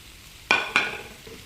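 Vegetables with spring onions being stirred in a small hot pan for beef bulgogi: two quick sharp scrapes over a soft sizzle, close up, no talking.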